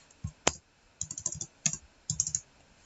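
Someone types a command on a computer keyboard in short clusters of crisp keystrokes, with one sharp single key hit near the start and brief pauses between the groups.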